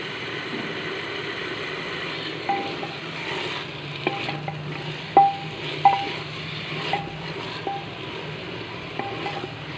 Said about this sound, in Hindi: अब हम इसमें शामिल करेंगे आलू। और इसे भी अब हम 2 से 3 मिनट अच्छी तरह फ्राई करेंगे बैंगन के साथ।